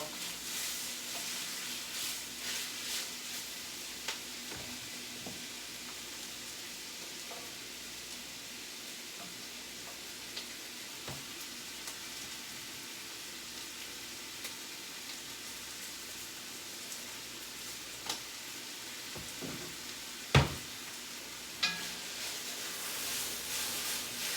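Onion sizzling in a hot frying pan while oxtails are being cooked, a steady quiet hiss with faint stirring clicks and one sharper clatter near the end, no talking.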